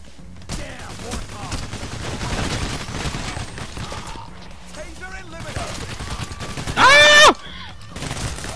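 Bursts of automatic gunfire crackle in PAYDAY The Heist, dense and continuous with one louder close burst near the end, mixed under game sounds and scattered voices.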